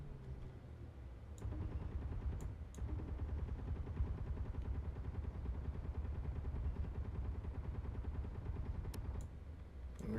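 Gunfire in the survival game Space Engineers, a sustained rapid rumbling burst of automatic fire under a low droning background, with a few brief sharp clicks before and after.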